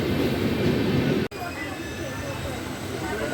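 The Howrah–Radhikapur Kulik Express pulls into Rampurhat Junction with a steady, loud rumble of wheels and carriage noise, broken by one sharp jolt partway through, as heard from inside the train.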